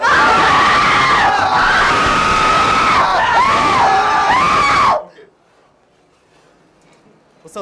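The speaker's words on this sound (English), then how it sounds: "You heard screaming?" Loud, sustained high-pitched screaming from several voices with rising and falling wails, cutting off abruptly into near silence.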